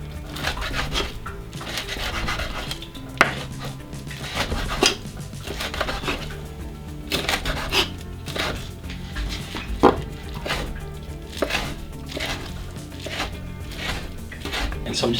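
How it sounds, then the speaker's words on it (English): A knife slices through a red pepper on a cutting board in a home kitchen, giving a steady run of soft, close chopping taps and scraping strokes throughout. "now I'm gonna go ahead and I'm going to just slice up the red pepper"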